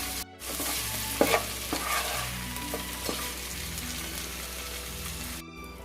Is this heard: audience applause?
no